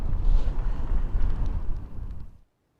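Gusty wind buffeting outdoors in the African bush on safari, a loud low rumble that rolls steadily for about two seconds and then cuts off abruptly.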